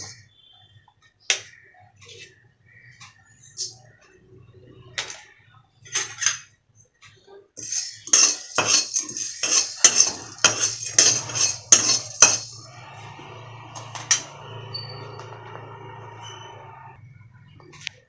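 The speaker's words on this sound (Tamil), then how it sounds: "கருவேப்பிலை, மிளகு, சீரகம் அதையும் நல்லா வறுபட்டுடுச்சு" Curry leaves, black pepper and cumin dry-roasting in a pan: sparse metallic clinks and ticks of a spatula against the pan, then a dense burst of rapid scraping and tapping, followed by a faint crackle.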